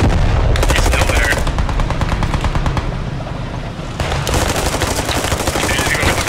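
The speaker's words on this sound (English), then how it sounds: "Taking fire, I don't know where from." Sustained automatic gunfire from a World War II shooter game, Post Scriptum, set around Carentan: dense rapid bursts of rifle and machine-gun shots run nearly nonstop, broken by a brief lull before the firing resumes at full intensity.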